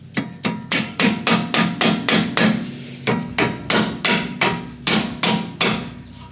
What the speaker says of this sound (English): take a little rubber mallet and kind of give her a couple taps.